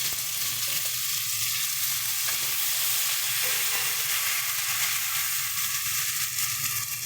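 A spice paste mixed with mashed potato fries in a hot pan, giving a steady, close, bright sizzle with faint stirring and no talking.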